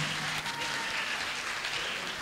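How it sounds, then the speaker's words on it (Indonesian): Applause from a seminar audience after a school team's presentation of an automatic waste sorter, a steady dense wash of clapping filling the whole stretch at moderate level with no talk over it. "Tepuk tangan yang meriah."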